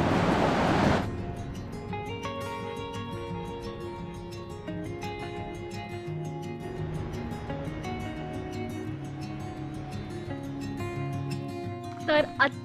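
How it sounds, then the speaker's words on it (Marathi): A large ocean wave breaks on a beach at Ratnagiri with a broad, loud crash in the first second, then fades under voices and other tonal sounds for the rest of the clip. "भरपूर मोठी लाट आली"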